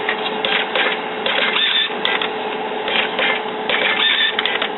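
An Epson ColorWorks C3500-series label printer prints labels with a continuous mechanical whirring and rhythmic clicking feed pulses, close and fairly loud, with no talking.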